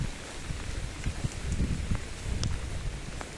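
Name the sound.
rain falling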